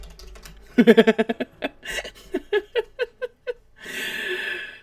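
Quick keystrokes on a computer keyboard come in a close, fast burst of clicks, then a slower run of separate taps, ending in a breathy exhale.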